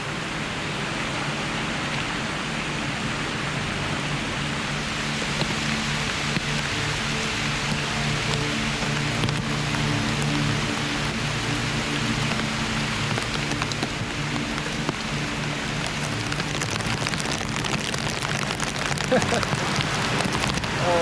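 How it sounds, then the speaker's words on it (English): Constant video game rain hiss pattering on a surface in a game built with Godot, steady and enveloping for the whole stretch, with no speech. "It's definitely raining out here."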